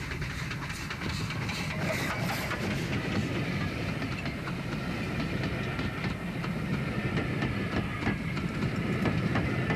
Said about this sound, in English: This train is travelling over a recently reopened section of the railway.